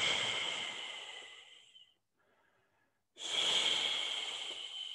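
Steady airy breathing during a stretching exercise, loud and close, one long exhalation that fades out, a short quiet gap, then another strong breath starting abruptly and holding steady, with no talk.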